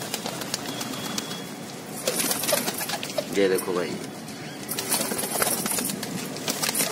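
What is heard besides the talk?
border pigeons cooing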